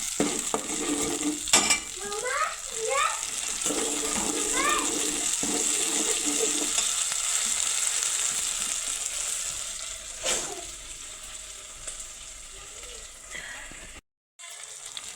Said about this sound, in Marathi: तो मी थोडासा तळायला टाकणार आहे, म्हणजे तेलामध्ये परतून घेणार आहे